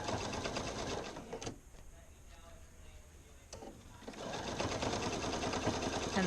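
A sewing machine stitches a seam on a pair of Simplicity 2481 pants, loud and steady at first, pausing for a few quiet seconds, then running on again in a continuous close whir.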